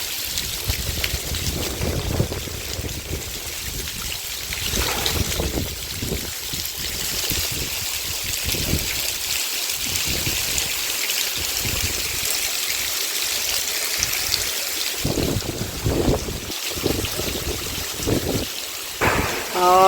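Heavy rain pours down steadily in Rajasthan, a dense continuous hiss and patter that holds at an even, loud level throughout.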